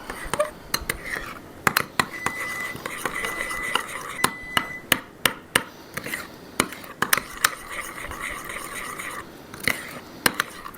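Seasoned BBQ food being mixed in a bowl, with irregular clinks and taps of utensil on bowl over a soft continuous rubbing, close and fairly loud.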